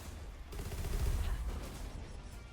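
A dense, rumbling explosion blast with crackling gunfire-like bursts fills the mix in the action video game Reignbreaker, loud and continuous, with no talking.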